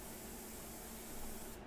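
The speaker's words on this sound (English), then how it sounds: "because you keep spraying in the same area, you're going to have a buildup of tone" An airbrush sprays India ink in a steady, close hiss that runs without a break and cuts off abruptly at the end.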